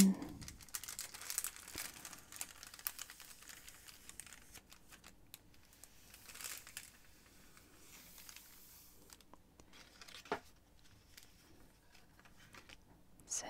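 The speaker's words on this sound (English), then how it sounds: "makes this beautiful crackling noise. It's very crinkly, crackly cellophane" Thin, crackly cellophane wrapping is crinkled and handled up close, giving quiet, irregular crackles and rustles that come and go in soft bursts with no talking.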